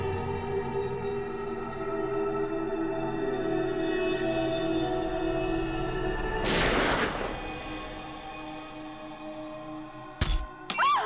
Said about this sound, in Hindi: अरे गोली चलने की आवाज आई।